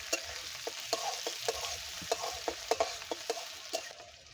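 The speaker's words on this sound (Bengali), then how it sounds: "এই তেলেতেই নেড়ে নেব।" Chicken pieces being stirred in hot oil in a pan, a soft steady sizzle punctuated by regular spatula scrapes and taps, fairly quiet and close, with no talk.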